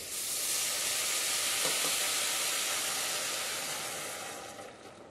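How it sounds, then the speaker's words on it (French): Onion, pumpkin, thyme and bay leaf sauté in a pan with a loud, steady sizzle and hiss that holds for several seconds, then eases off slightly toward the end. "On va faire revenir le tout 1 minute, histoire que les parfums se mélangent bien entre l'oignon, le potiron, le thym et le laurier"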